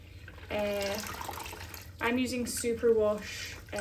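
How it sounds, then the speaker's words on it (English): Superwash merino yarn sloshed and gently agitated in a basin of water, splashing and trickling under a voice talking throughout. "agitating it gently in the water isn't going to be a problem for this yarn"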